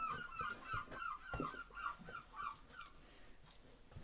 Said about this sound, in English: Do you like my seagulls? They are quite vocal.